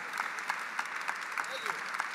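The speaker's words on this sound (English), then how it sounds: "Nice round of applause." Audience applause for inductees at an athletics hall of fame gala, moderate steady clapping in a large room with distinct louder claps standing out, heard at some distance.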